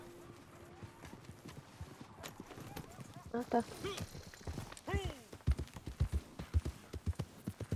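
Horse hooves clip-clop in Red Dead Redemption 2, starting faint and growing into loud, rapid galloping beats, with a whinny midway and people talking over the action.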